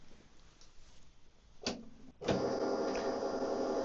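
An Epson WorkForce Pro WF-3820DWF printer starts scanning a multi-page document, with a short mechanical clunk followed by a steady, close whirring hum that runs continuously to the end.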